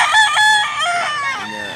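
A rooster crows loudly and close by, one long drawn-out call lasting nearly two seconds, clear and alone.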